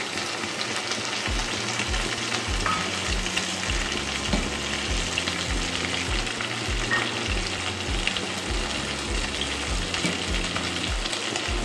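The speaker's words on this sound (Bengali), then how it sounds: "এবার আমি আদা আর কাঁচা লঙ্কা বাটাটা দিয়ে দিচ্ছি।" Vegetables sizzle steadily in hot oil in a pan after ginger and green chilli paste goes in, for a Bengali fish curry with potato and taro; the frying hiss is continuous and close, with occasional stirring and no talk.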